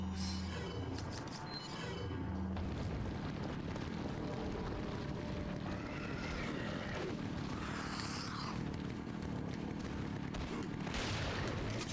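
Shotgun blasts in the Resident Evil 4 demo, punchy gunfire amid dense game noise and rumbling effects, with no talking.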